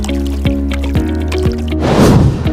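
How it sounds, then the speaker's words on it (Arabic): Water is poured and splashes over a closed UPVC window during a sealing test, a loud liquid gush and dripping near the end, over a background of steady tonal hum. "ان احنا نغرق الشباك ميه بالشكل ده"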